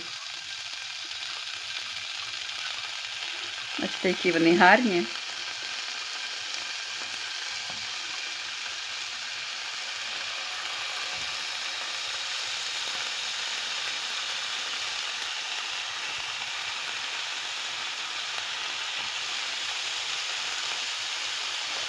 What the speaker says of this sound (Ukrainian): Перемішаю і буду смажити на сковорідку.